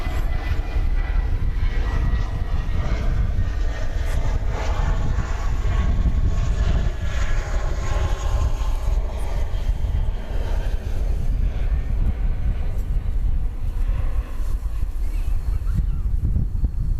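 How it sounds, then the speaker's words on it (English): An American Airlines Airbus A320 jet at DFW Airport at night, a steady, broad engine roar that stays loud and continuous throughout. "It's an Airbus A320 going to Wichita, Kansas."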